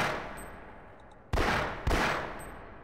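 Two sharp gunshots in Half-Life, each a loud close crack with a short decaying tail about half a second apart, following a quiet stretch of low ambient hiss.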